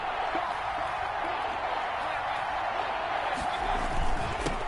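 Stadium crowd in an American football video game fills the scene with a dense, steady roar of many voices, loud and unbroken, with faint whoops and bursts rising near the end.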